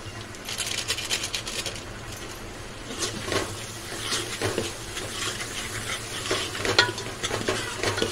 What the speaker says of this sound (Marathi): हे चांगले मिक्स करून घेऊया आणि चांगलं शिजण्यासाठी याच्यामध्ये थोडंसं पाणी टाकूया